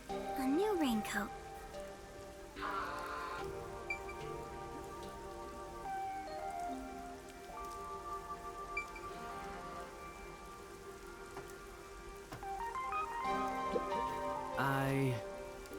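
Steady rainfall in the video game Rain Code patters continuously at low volume beneath a soft musical score, with occasional game tones rising over it.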